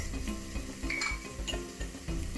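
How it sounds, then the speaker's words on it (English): Garlic and ginger stirred in a hot pan, a steady soft sizzle under repeated scraping and clinking of a utensil against the pan, close and continuous with no talking. "garlic, ginger, yes, you stir it"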